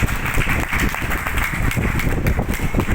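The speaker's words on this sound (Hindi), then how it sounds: "जोरदार तालियां सिस्टम के लिए" Dense applause from a crowd, a steady wash of clapping that holds at a loud, even level throughout.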